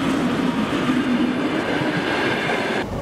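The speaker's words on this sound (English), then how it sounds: "Passenger train." Passenger train running steadily on the rails, a continuous loud rumble with a rushing hiss that holds throughout and cuts off near the end.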